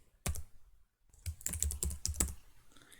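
Keys clatter on a computer keyboard as a name is typed into CAD software: one isolated keystroke, a brief pause, then a quick run of close, quiet taps.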